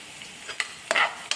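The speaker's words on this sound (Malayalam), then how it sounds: "ഉള്ളിയൊക്കെ അത്യാവശ്യം നല്ല രീതിയിൽ വാടിയിട്ടുണ്ട്" Onions softening in a pan for stuffed squid, with faint sizzling and a few brief scraping strokes of stirring, quiet and close, no talking.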